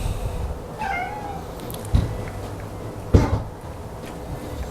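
A house cat meows once up close in a home kitchen where refrigerator rolls are being baked, followed by two dull knocks or thumps in an otherwise quiet room.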